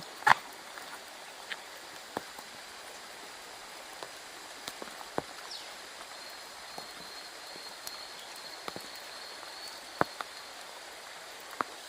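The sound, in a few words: light drizzle falling at a campsite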